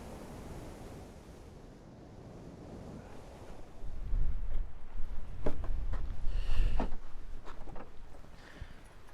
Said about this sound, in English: It is ridiculously windy.